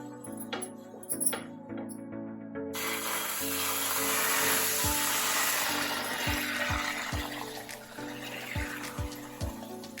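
Water is sprinkled onto a hot dosa tawa and then wiped off, a sudden hiss that swells and slowly fades, with rubbing strokes and faint steady tones underneath.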